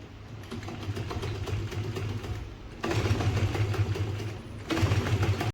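A sewing machine runs steadily after its loose bolt has been tightened, giving a continuous mechanical whir with a low hum that grows louder in two steps near the end.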